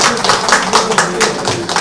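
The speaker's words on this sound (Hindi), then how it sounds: "आप लोग तालियां बजाते रहे मुस्तकिल" Continuous clapping from a crowd at an award ceremony, dense and steady throughout without a break.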